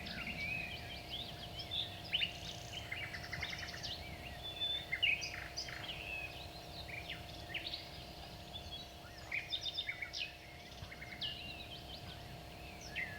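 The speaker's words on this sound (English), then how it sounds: "I found a cassette that contained only sounds of birds and animals." Bird calls and other animal sounds played back from a cassette tape, with scattered chirps and short song phrases rising and falling over a steady low hum and tape hiss, moderately faint throughout.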